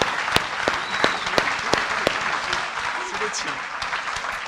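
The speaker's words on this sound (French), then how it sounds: "Vous pouvez les applaudir une nouvelle fois" Scattered applause at a business awards ceremony, sparse claps with a few sharp louder hand strikes standing out, fairly quiet and mixed with faint voices in the room.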